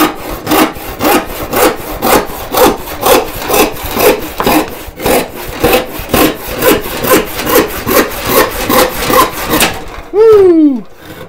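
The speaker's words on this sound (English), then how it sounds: "Much bigger ripping saw." A large hand rip saw with 4.5 TPI rip teeth cutting through wood in steady back-and-forth strokes, about twenty loud rasping passes at close range, ending with a brief squeak.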